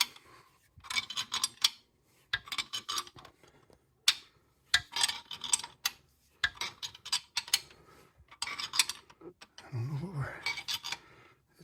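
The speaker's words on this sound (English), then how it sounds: "Need one of those ratchet wrenches here." A ratchet wrench loosens a hydraulic pressure tube on a Ford 641 tractor, giving close bursts of rapid clicking in repeated strokes, separated by short pauses.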